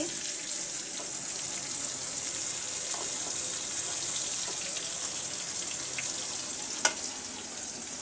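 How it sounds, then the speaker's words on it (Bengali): Teasel gourd (kakrol) frying in a pan: a constant, bright, hissing sizzle that stays even throughout, with a few faint clicks and one sharp tick near the end, close and steady. "কাঁকরোলগুলোকে আমি আরো একটু ভেজে নিচ্ছি।"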